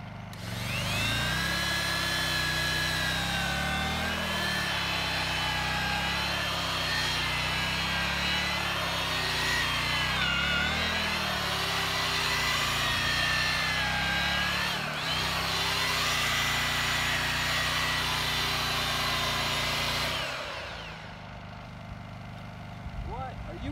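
An electric earth auger with a four-inch bit drills a post hole in yard soil, its steady loud motor whine droning continuously with cyclic load changes for about twenty seconds before winding down, while a Honda EU2000 generator hums nearby.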